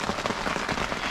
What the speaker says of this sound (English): As you can tell from the sound, it is still raining.